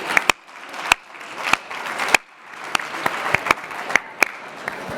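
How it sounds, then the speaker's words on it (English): An audience applauds continuously for award winners at an evening awards event, a dense wash of clapping with sharp loud claps standing out near the front. "Let's give one more bit of applause to the Vodafone awardees"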